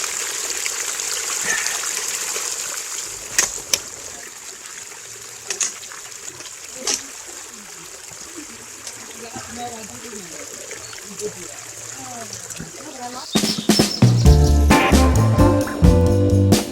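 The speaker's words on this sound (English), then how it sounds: "hikers will cross the Topanga Creek in two different locations. There is water here year-round." Topanga Creek water trickles and burbles steadily outdoors in Topanga Canyon, Santa Monica Mountains, with someone talking over it and a louder stretch of noise near the end.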